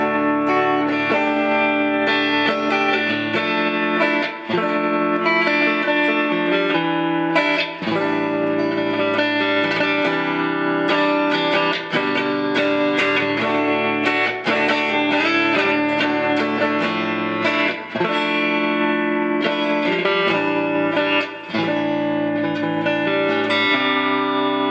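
A Harley Benton TE 80 electric guitar played on its neck pickup rings out alone in sustained chords and notes with reverb, steady and loud throughout with short breaks between strums.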